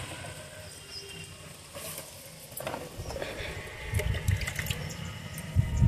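Water that has been soaking is poured onto a garden plant, a soft patter and trickle building louder toward the end, close by, with no talking.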